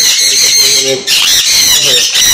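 Parrots squawk in harsh, repeated calls at an exotic bird farm in Kolkata that keeps conures, cockatiels and lovebirds. The squawks are loud and close, with voices mixed in.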